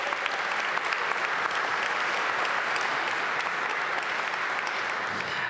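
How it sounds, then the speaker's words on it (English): A crowd at the unveiling of the new Capital One Arena in Washington, D.C. gives a sustained, even round of applause, heard from a moderate distance with no talking over it. "Let's give Ted and Monumental Sports a big round of applause."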